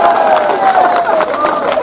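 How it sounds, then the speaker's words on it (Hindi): Dense roar of a large crowd cheering and clapping at a political rally during comic verse recitation, loud and continuous, with a voice shouting over it. "ठोको ठोको ताली ठोको।"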